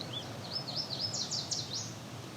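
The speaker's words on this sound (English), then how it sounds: "that's definitely the yellow warbler version" A yellow warbler sings a quick, thin run of high notes, faint and slightly distant against a soft outdoor background.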